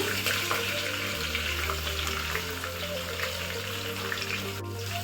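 Green chillies frying in oil, close and loud, a steady bright sizzle that holds throughout over a low constant hum, with no talking.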